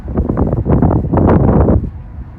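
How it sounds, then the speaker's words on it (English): Strong gusts of wind buffet an outdoor microphone beside a railway line, a loud rumbling roar that swells for about two seconds and then eases off. "Sorry about the wind. It is really windy today."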